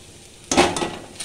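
Masala paste and boiled potatoes hit a hot pan for a village-style potato curry, a sudden sizzle bursting in after a quiet moment, with scraping stirring pulses over the next half second.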